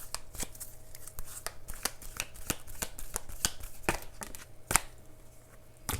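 A deck of oracle cards being shuffled and handled, quick crisp riffling flicks in an uneven rhythm with one sharper snap near the end, close and fairly quiet.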